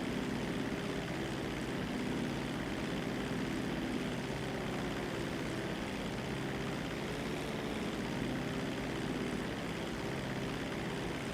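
A single-engine propeller bush plane drones steadily in flight in a video game, its engine tone constant and fairly close with no talk over it.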